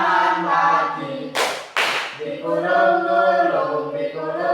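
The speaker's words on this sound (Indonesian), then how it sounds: "Tepuk tangan lagi." Two sharp hand claps land in quick succession during a classroom song in an Indonesian lesson, loud and near, with a sung voice continuing before and after them.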